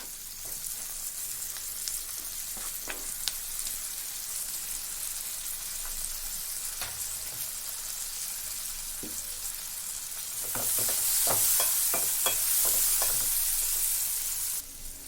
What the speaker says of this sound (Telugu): ఇప్పుడు మనం చిన్నగా కట్ చేసుకున్న 2 టమాటా ముక్కల్ని ఇందులో యాడ్ చేస్తున్నాను